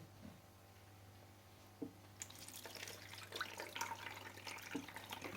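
Water poured and rinsed over bean sprouts growing on tissue paper in a basket, starting with faint drips and then a steadier splashing trickle that runs to the end.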